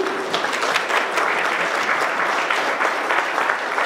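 Steady applause from a meeting audience thanking a presenter named Mark, dense continuous clapping at even loudness throughout with no voices over it.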